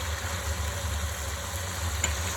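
Chicken fries in a pan as a faint, steady sizzle under a low continuous hum.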